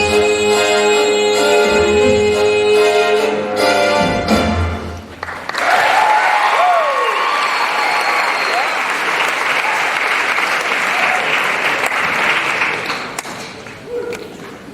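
A pageant audience breaks into loud, sustained applause after music ends, a broad crowd of clapping that carries on steadily for several seconds once the final notes stop.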